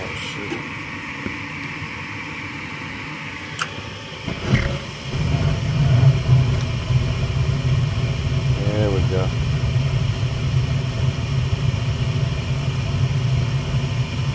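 A Lennox gas furnace with a new 120V igniter lights with a soft whoosh a few seconds in, then its burners settle into a steady low roar over the inducer fan's constant hum.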